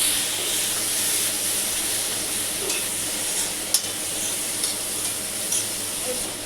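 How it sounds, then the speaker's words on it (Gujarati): Tomatoes hit a hot pan and sizzle, a steady loud hiss of frying that carries on throughout, with a few light stirring clicks and taps. "આમાં હવે ટમાટર નાખી। છન છન છન છન।"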